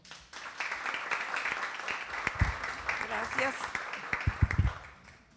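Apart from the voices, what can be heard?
audience applause for an author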